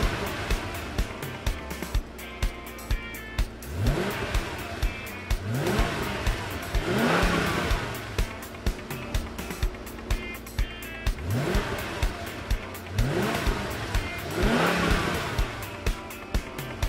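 A sports car engine in a kids' racing cartoon revs in repeated rising sweeps, each surge climbing then falling as cars pass, over busy music-like background, loud and continuous with rhythmic pulsing.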